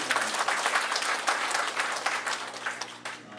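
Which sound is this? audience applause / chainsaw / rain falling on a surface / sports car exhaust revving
audience applause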